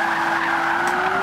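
A 2014 Rolls-Royce Wraith drifts in the racing game Forza Motorsport 5, its tires squealing in a loud, steady screech over a constant engine drone, with no break.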